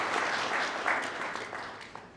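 Audience applause at a product launch ceremony for Sama Money by UBA, a steady wash of clapping from a crowd at moderate volume, sustained and fairly even throughout, with no voices over it.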